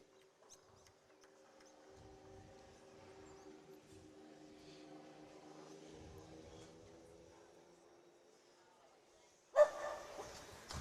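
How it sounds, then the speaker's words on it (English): Dachshunds bark faintly in the distance in a few quiet yaps at a tennis match, under a steady hum, ending in a louder burst of crowd noise. "Got some sausage dogs sitting behind us."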